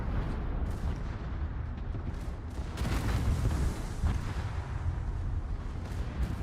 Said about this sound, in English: If I can hear my shots